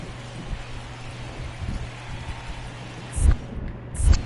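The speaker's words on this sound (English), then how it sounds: "This rain is not letting up." Heavy rain falls during a professional baseball game as a steady, dense hiss of downpour. Two dull low thumps come near the end.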